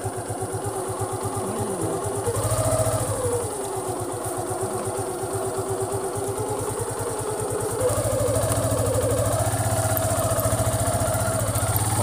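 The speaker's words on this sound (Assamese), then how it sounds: "বাইক যায়" A motorcycle engine throbs with a steady, rapid pulse as the bike moves along a slippery road, growing louder near the end with no one speaking.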